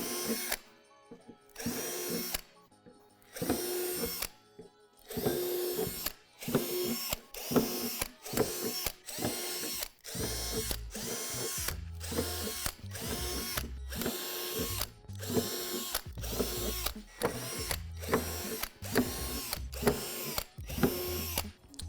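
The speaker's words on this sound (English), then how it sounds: "Drill out the 10 divots on each of the side panels." Power drill boring out molded divots in the plastic side panels of a Lifetime 80 gallon rotating composter, heard as a long run of repeated short whirring bursts with brief pauses between, close and fairly loud, with no talk.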